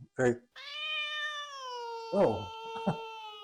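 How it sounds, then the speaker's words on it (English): A house cat gives a long, drawn-out meow that rises and holds, close to the mic, with short vocal chirps before and after it. "Sometime later, Baby the cat is going to make a cameo."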